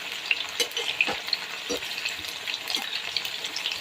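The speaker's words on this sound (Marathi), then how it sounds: "दोन ते तीन मिनिटं छान असे तळून घ्यायचे" Steady hiss and crackle of dumplings deep-frying in hot oil, with occasional louder pops over a continuous sizzle.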